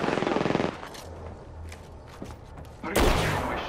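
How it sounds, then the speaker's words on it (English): Rapid automatic gunfire rattles in the Apex Legends video game, a loud burst at the start, quieter scattered shots through the middle and another heavy burst near the end, with faint game voices underneath. "Getting shot at."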